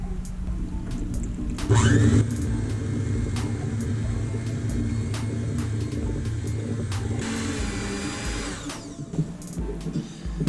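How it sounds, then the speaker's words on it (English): An electric stand mixer runs on high, churning honey bun dough with a steady whirring motor drone and a brief louder surge near the start, with occasional clicks over the hum. "We're going to mix it on high after it's well incorporated for about 3 minutes."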